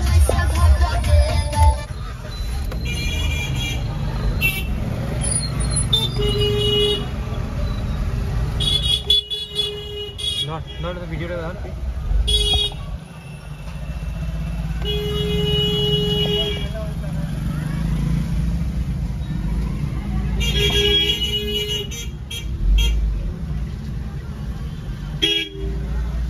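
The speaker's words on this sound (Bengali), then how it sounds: "এখন জ্যামে ফেসে গেছি, তোমাদেরকে দেখাচ্ছি।" Vehicles stuck in a jam at a railway gate, with repeated car and bus horns honking near and far over a steady engine rumble, while people talk throughout.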